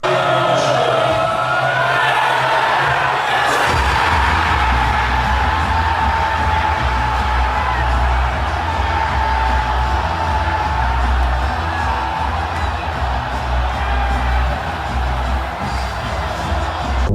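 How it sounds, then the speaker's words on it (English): A packed English pub erupts as England score a World Cup goal, with dense, sustained cheering, whoops and yelling from a large crowd that surges early and stays loud throughout. "This is what every pub in England looks like when they score in the World Cup."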